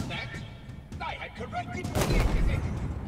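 Gunfire from a boss fight in the video game Halo Infinite, with bursts and booms layered over busy game sound effects and music, building louder toward the end.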